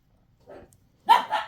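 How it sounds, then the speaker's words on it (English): Dogs bark at night, a soft muffled woof followed by a louder, sharper bark, close by with no talking. "it's been a barking night for my dogs, and they're not usually like that"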